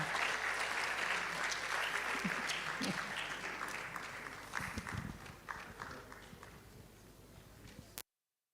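Applause from a crowd at a public medical college lecture, steady clapping that gradually fades and thins out toward the end, with no speech over it.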